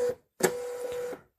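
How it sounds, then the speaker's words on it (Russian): An Xprinter label printer powers on and runs its automatic calibration: a sharp click, then a steady mechanical whir with a faint tone that runs for about three quarters of a second before stopping, heard alone. "Так, включаем принтер."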